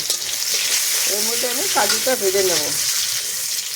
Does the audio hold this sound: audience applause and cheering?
no